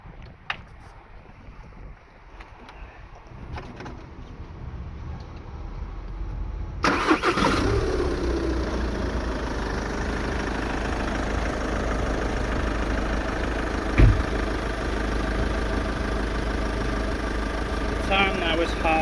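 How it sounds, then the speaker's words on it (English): A Volkswagen Passat CC GT, dosed with engine flush, cranks and fires up, then settles into a steady low idle that runs on alone, with a brief knock or clunk later in the clip. "leave it to idle for 20 minutes to get the engine flush stuff going around the system"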